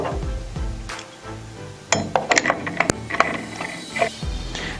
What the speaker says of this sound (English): Grab the blade and tighten the tool-free arbor screw, then flip the tab down.